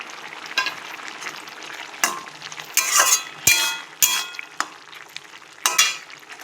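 Fried prawns and garam masala go into a pan, followed by scraping stirring strokes and clinks of a spoon against metal, sharp bursts spaced irregularly over a faint steady sizzle.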